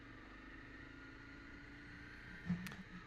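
A motorcycle rides a green lane in the Surrey Hills near Polesden Lacey, its engine a steady, moderate drone throughout with a brief louder swell near the end.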